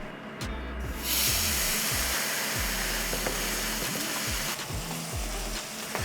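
A steak coated in mayonnaise sears in a smoking-hot pan, giving a loud, continuous close sizzle and hiss with a low repeating hum underneath, and no voices.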